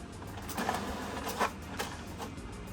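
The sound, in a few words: HP Smart Tank 615 printer printing alignment page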